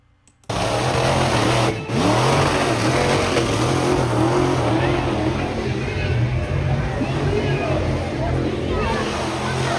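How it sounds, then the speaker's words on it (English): Monster truck engine roaring at a show in Mexico, a loud sustained engine noise with rising and falling revs over a dense, washy background. "This is a monster truck show."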